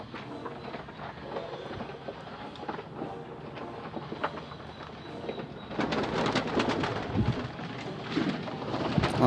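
Indian fantail pigeons in a home loft give soft, low cooing. A louder rustling, clattering wash builds toward the end.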